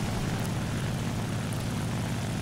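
A propeller-driven fighter plane in a flight combat video game drones steadily, its engine a constant loud, dense roar with no break and no talking.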